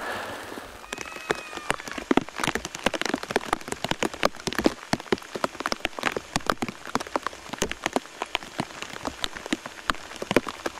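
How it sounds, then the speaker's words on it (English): Steady rain pattering densely on surfaces in a wet coastal rainforest on Prince of Wales Island, Alaska, with rapid, irregular close drops and no voices. "It's raining."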